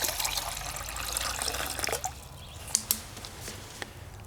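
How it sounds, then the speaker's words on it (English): A Clipper lighter dropped into a cup of water, with running, splashing water noise that eases off, followed by a few small sharp drips and clinks, close and fairly quiet. "I'm going to dump that clipper right into the cup of water"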